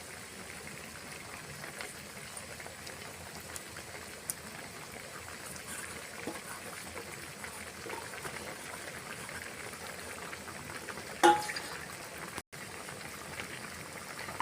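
A pot of hilsa fish curry with taro stems bubbles at a steady low simmer, a soft continuous boiling hiss, with one brief knock or clatter near the end.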